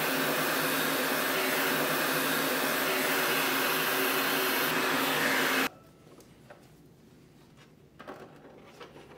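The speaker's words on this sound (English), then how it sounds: "I'm going to use the heat gun and just heat up the remaining butyl that is around the" A heat gun gives a loud, steady blowing roar for more than five seconds while it softens leftover butyl sealant around a factory headlight lens on a Colorado ZR2. It then cuts off, leaving quiet room tone and a few faint knocks.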